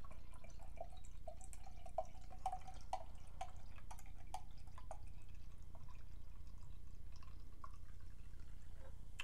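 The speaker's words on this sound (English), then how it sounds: "Pouring it into the glass almost sounded like soda pop." Bourbon barrel aged maple beer pours into a glass, with a faint steady fizzing and scattered small drips and pops over a low background hum.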